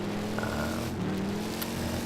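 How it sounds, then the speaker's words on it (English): A 1960s Camaro race car in the Gran Turismo 5 video game drifts with a steady engine drone and shifting pitch, a continuous sustained whine without any voices. "60s race car drift trial here, as you can see, in the Camaro"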